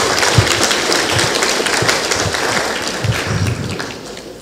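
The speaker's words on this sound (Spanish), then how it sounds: "Recibimos con un fuerte aplauso al doctor Eusebio Ingol Blanco." Close, steady audience applause at an engineering forum on water, welcoming a speaker, dense clapping that holds for several seconds and eases slightly toward the end.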